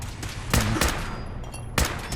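Gunfire in the Fallout 4 game, a few sharp separate shots spaced over a couple of seconds against a steady background din, each crack loud and brief.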